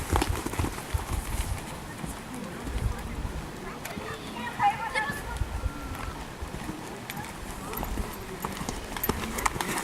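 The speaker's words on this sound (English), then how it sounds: "And canter." A ridden horse canters in an arena, its rhythmic hoofbeats thudding steadily at moderate distance while people talk over it.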